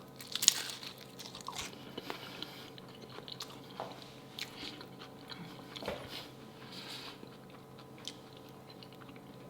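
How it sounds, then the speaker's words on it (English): Someone crunches and chews a homemade Taco Bell-style Mexican pizza close to the mic, irregular crisp bites and mouth noises spread over several seconds, fairly quiet without talking. "the crunch is exactly like a Taco Bell pizza"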